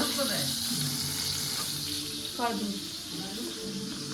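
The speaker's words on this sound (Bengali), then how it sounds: "তো মানে ঢ্যাঁড়সটা ভাজছি ওইটা" Okra sizzling as it fries in a pan, a steady hiss running throughout with occasional stirring and faint voices in the background.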